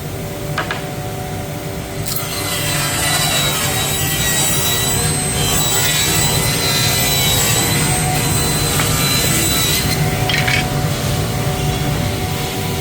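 A chop saw whines through wood being cut to width for a kitchen remodel, a loud sustained cutting roar that holds steady for about eight seconds before spinning down, with no talking.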